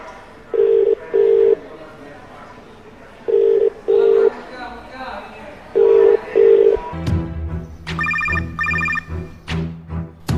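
Telephone being dialed and ringing: three pairs of beeping ringback tones with pauses, then a burst of rapid key tones over a low hum, loud and close.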